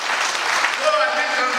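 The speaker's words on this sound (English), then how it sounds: "Please show your appreciation by clapping your hands." An audience at a PANDEF meeting in Yenagoa clapping in applause, a dense, loud wash of many hands with a voice speaking faintly over it.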